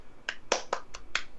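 Five sharp, snappy claps in an uneven rhythm, close and fairly quiet, each a crisp isolated pop over a quiet background.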